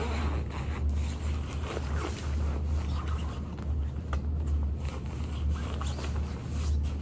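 A Mackage Adali jacket zipper is worked in a few short zips against a steady low hum, close and fairly quiet.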